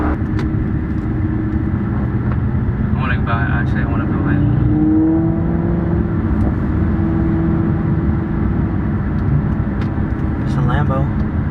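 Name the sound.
Lamborghini supercar driving on a highway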